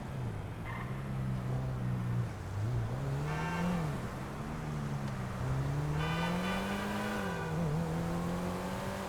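Car engine in the GTA video game, revving and accelerating with rising and falling pitch as the car is driven, steady and close with no talk.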